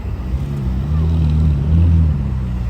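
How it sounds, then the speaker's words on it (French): A Ferrari 458 Italia convertible with the roof down driving across the Pont Alexandre III in Paris, a loud steady low engine drone that swells slightly midway, with no talking. "C'est une belle journée pour décapoter sur le pont Alexandre III en Ferrari 458 Italia."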